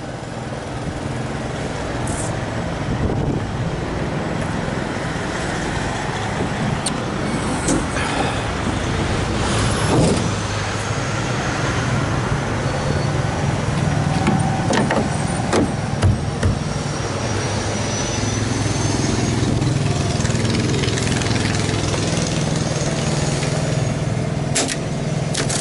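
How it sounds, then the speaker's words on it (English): A very small Kubota engine runs steadily in a vehicle, a continuous low droning hum with occasional clicks and rattles over about twenty-five seconds, no voices. "Very, very small engine, but I bet you, man, this engine is really, really good. Made by Kubota."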